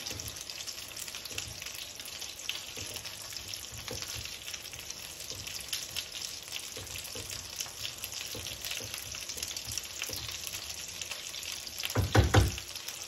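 Heavy cream is stirred into a chicken and mushroom pan, a low steady sizzle with soft scraping strokes throughout and a louder clatter of utensil against pan near the end.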